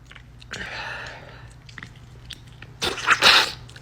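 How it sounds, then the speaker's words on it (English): A sharp, forceful human sneeze bursts out near the end, loud and close, after a softer breathy sound earlier on. "Major sneeze."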